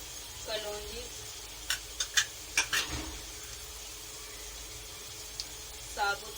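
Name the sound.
whole spices like fenugreek and nigella seeds sizzling in pan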